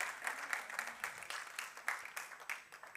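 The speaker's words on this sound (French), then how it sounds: "On peut applaudir le Seigneur." A church congregation claps during a service, a steady, fairly soft patter of many hands with a rhythmic pulse, continuing for a few seconds with no voices over it.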